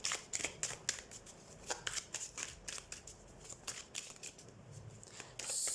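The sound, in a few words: shuffling and drawing tarot cards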